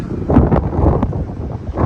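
Strong gusts of wind buffet the microphone with a loud, continuous low rumble.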